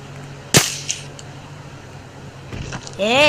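In a video game, one loud, sharp gunshot crack, followed by a few fainter shots spread over a couple of seconds against steady background noise.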